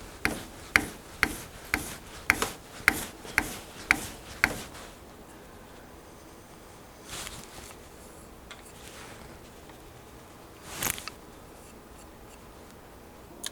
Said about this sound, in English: Now, stropping will polish this further, polish my finish edge further.